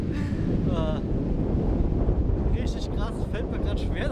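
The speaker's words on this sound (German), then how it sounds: "So geht der Wind hier." Strong storm wind batters a forest campsite, roaring loud and constant across the clip with heavy microphone buffeting; a person speaks briefly in the middle.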